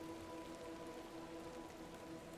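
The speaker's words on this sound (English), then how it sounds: "Thank you for braving the weather. Aye, miss. Little rain is no bother." Rain falls in the video game The Excavation of Hob's Barrow, a faint, even wash of patter with no breaks, quiet and distant.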